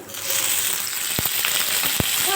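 Chopped green chilies, tomato and onion sizzle steadily in a little oil, a continuous close frying hiss broken by a couple of sharp stirring knocks against the pan.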